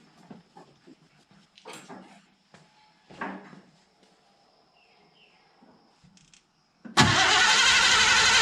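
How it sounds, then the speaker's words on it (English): A 1986 Mercury Grand Marquis engine cranks over with its ignition coil unplugged, a loud steady starter whir that begins abruptly after several seconds of faint clicks and clunks. "So I'm just going to crank the thing over."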